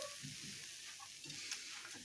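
Starch pancake batter fries in a hot pan with a steady, bright sizzle throughout, close and fairly quiet, with a faint stirring scrape and no talking.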